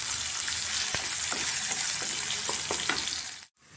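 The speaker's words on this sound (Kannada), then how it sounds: "ಚೆನ್ನಾಗಿ ಫ್ರೈ ಆಗಲಿ ಸ್ವಲ್ಪ." Seasoning for sambar fries in oil in a pan, a steady close sizzle with scattered sharp pops and crackles, cutting off abruptly near the end.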